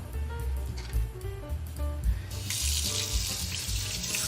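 Hot water runs steadily from a kitchen tap, a close, continuous splashing stream that grows brighter and louder partway through, with clinks of dishes underneath.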